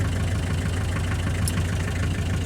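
A Ch 4 8.5 diesel engine, nicknamed "Bronyovychok", idles at a steady low, even chug that stays close and constant from start to finish, with no voices.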